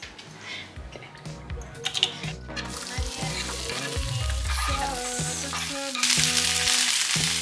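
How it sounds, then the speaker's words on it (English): A metal spoon stirs food sizzling in a frying pan in a rental kitchen in Crete, with scraping clinks and knocks over a steady sizzle that grows louder and brighter toward the end. "Our only stirring utensil, a metal spoon"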